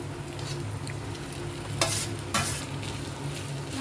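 Pasta stirred through masala in a hot pan gives a steady low sizzle, with two brief louder scraping bursts from the spoon partway through and no talking.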